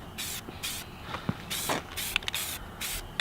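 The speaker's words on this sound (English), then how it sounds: "I'll just get the first light coat so we can see any imperfections." A spray can lays a light first coat of paint onto fiberglass tweeter pods outdoors at night, several short hissing bursts separated by brief pauses, close and fairly loud.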